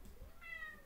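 A shaved cat recovering from a large abscess gives a single rising-and-falling meow, close by and fairly faint, with no talking.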